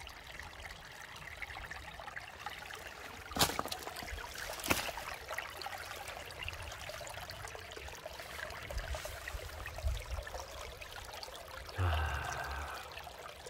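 A small village brook trickles and babbles steadily at low volume, with a couple of sharp knocks and a brief spoken word over the running water.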